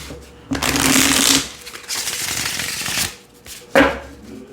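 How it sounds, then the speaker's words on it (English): A tarot card deck is shuffled in several bursts. Each is a crisp riffling flutter followed by a short pause, and the last burst is sharper. The shuffling is close and loud, with no talking. "Shuffles like a dream."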